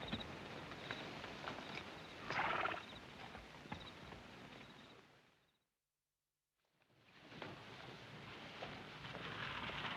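Horses moving along in a 1943 Western, a steady clip-clop of hooves and shuffling under a busy outdoor bed, briefly dropping to silence midway before the hoofbeats resume.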